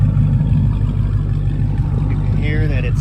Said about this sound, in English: When just idling, it has a good idle low rumble that's not too loud.